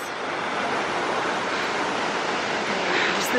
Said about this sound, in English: Wouldn't shower in that waterfall.